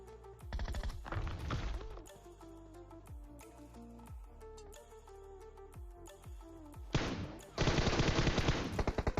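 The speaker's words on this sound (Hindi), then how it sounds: "उस साइड से जो है किसी ने फायर किया।" Automatic gunfire in PUBG comes in loud, rapid bursts, with sharp single shots in between and a dense volley near the end.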